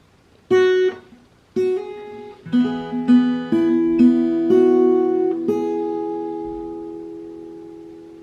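Plucked fingerstyle guitar notes ring out one by one, then build into a slow sequence of chords with the melody of the hymn "How Deep the Father's Love for Us", each note sustaining and fading gently.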